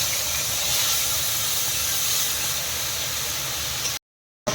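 Ginger, garlic and onion paste sizzling in hot oil with dry red chilli and bay leaf, a steady loud broadband hiss running for about four seconds before cutting off abruptly.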